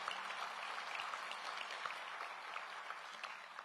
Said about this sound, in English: And that's a reason to applaud.